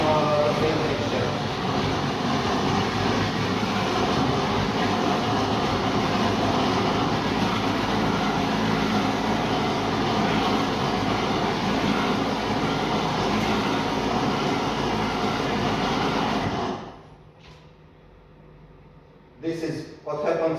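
A ROBOT COOK food processor runs with its scraper arm turning, a loud steady whirring roar for about seventeen seconds that then cuts off, leaving quiet with a few brief knocks.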